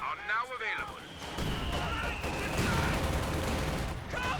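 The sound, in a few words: rifle gunfire in a video game battle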